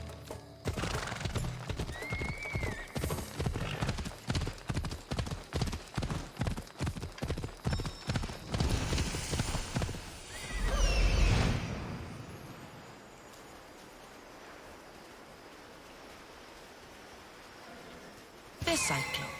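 A horse in Assassin's Creed Odyssey gallops with a fast, steady clip-clop of hooves, then lets out a loud neigh before the hoofbeats fade into quiet; a voice speaks briefly near the start.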